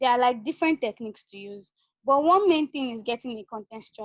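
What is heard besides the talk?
None of the usual background noises is heard.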